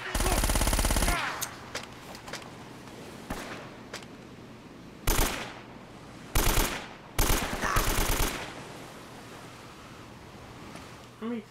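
Video game gunfire in Uncharted: a sustained automatic burst opens the passage, and after a lull several sharp, separate bursts and shots follow in quick succession.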